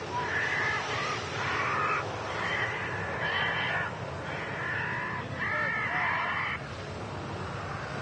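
A bird scarer at Manchester Airport plays a carrion crow distress call: a series of harsh, repeated caws in bursts, loud and carrying over steady background noise.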